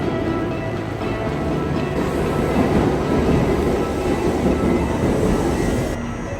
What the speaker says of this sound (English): Classic bullet train experience.